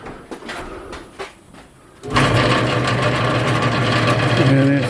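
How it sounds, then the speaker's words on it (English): A South Bend metal lathe starts up partway through, moving from quiet clicks and knocks to a steady, fairly close mechanical whir and hum that runs to the end. "looking at the new to me metal lathe made by South Bend."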